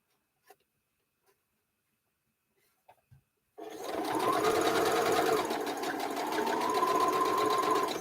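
After a few faint knocks in near silence, a home sewing machine starts up and runs steadily at close range, an even motor whir with a rapid ticking needle beat that holds to the end.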